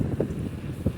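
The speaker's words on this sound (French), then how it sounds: "Le vent il va souffler." Wind buffets the microphone during a night ride on an Angwatt CS1 electric scooter, giving a continuous low rumbling roar with small gusty swells throughout.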